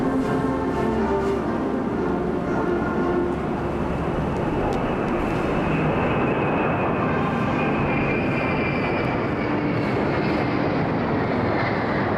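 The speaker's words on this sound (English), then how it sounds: "The lead jet is the KJ-2000 early warning jet." A KJ-2000 early warning jet leads a flypast over the National Day military parade in Beijing, a broad continuous jet roar filling the air steadily throughout, loud and unbroken with no voices.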